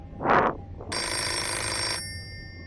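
A whooshing swell, then a bright electronic phone ring in the video game Hello Guest that holds steady for about a second before cutting off, with no talking.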